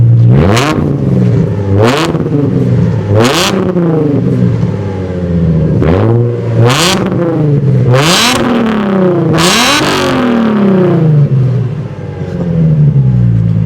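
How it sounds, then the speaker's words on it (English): A modified Nissan 350Z with a loud, still road-legal exhaust revs repeatedly: about eight sharp blips that climb and fall back to a rumbling idle, close and loud, with no talking. "If you give that a bit of a rev."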